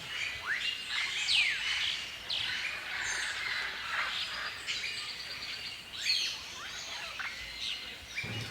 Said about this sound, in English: Number 3 is Lilac-breasted Roller